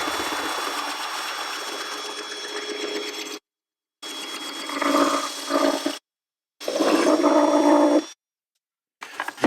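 A power drill runs in reverse in several bursts, a whirring motor with gaps of silence between runs, close and fairly loud, while fitting a speaker system on a Harley Road Glide.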